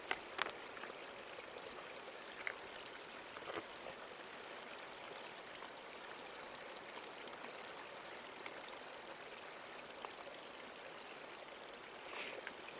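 Boiled water pours steadily into a container up to a marked line, a continuous close trickling rush that runs without pause, with a few faint knocks and no talking.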